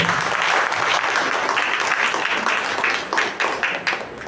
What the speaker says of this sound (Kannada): ಹಾಗಾಗಿ ಇನ್ನೊಂದು ಚಪ್ಪಾಳೆ.